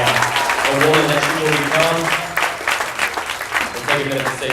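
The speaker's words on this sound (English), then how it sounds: "If we could all give her a round of applause" An academy audience applauds a student, a dense spread of clapping with a speaking voice running over it throughout, the applause holding steady then loosening toward the end.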